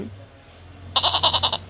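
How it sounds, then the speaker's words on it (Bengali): A young goat kid bleats once in a loud, wavering, pulsed call near the end, following a quiet stretch with a faint low hum. "ছয়ে ছাগলছানা লাফিয়ে চলে"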